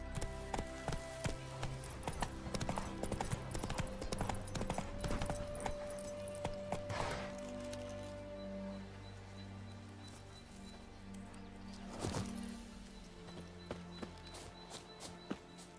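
Horse hooves clip-clopping in The Witcher 3, steady footfalls with rustling and game ambience, moderately quiet, no talk.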